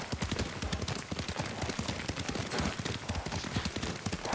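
A horse ridden at pace in the video game Ghost of Tsushima gives fast, dense clip-clopping hooves, continuous and fairly faint, with no talk during the gallop.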